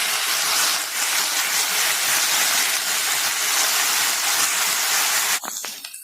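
Pirandai (adamant creeper) sautéing in a hot pan gives a loud, continuous hissing sizzle. It stops abruptly near the end, followed by a short clatter and fainter sounds.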